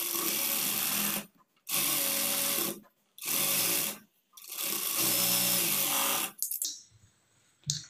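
An electric sewing machine stitching a lined blouse runs in four loud, close bursts of steady whirring, each a second or more long, separated by short pauses, and the last burst cuts off into quiet handling noise.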